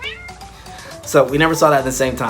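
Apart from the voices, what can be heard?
cat meowing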